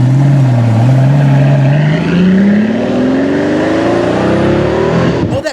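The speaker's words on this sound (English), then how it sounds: "a 6-liter twin-turbo V12 that made 730 freaking horses" A Lamborghini's 6-liter twin-turbo V12 engine roars loudly and close, its pitch climbing steadily as it revs up, then cuts off abruptly at the end.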